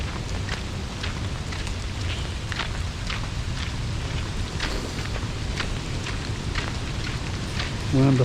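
Heavy rain at the Burleigh Heads national park lookout during Queensland floods, a steady dense hiss of rainfall with scattered droplet patters, constant and fairly loud, with a brief rustle at the end.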